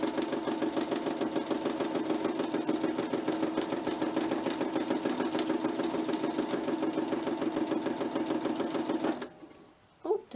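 Sewing machine running steadily for free-motion stitching in black thread, a fast continuous mechanical whir with rapid needle chatter, close and loud for about nine seconds before stopping abruptly, followed by a brief faint rustle.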